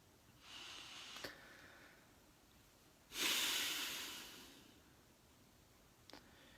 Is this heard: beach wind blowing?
no